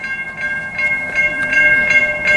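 Ferromex freight train rolling past a railroad crossing, loud and close, with steady rumble, rhythmic clatter of wheels and a sustained ringing crossing bell tone throughout.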